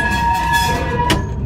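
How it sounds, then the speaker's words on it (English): Wheel flanges squeal loudly as a trolley rounds a very sharp turnout. High metallic tones sustain over rumbling wheel noise, and a brief burst of hiss comes near the end. "The trolley don't like this turnout Oh, okay. because it's very sharp, so you're gonna have flange squeal."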